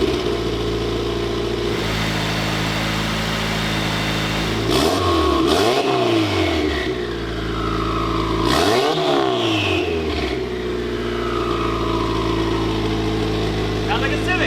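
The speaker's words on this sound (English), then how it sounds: "The exhaust doesn't sound too bad" A K-swapped Mazda FD RX7 barks through its exhaust in two sharp rev blips over a steady idle, each rising and falling quickly, heard close by.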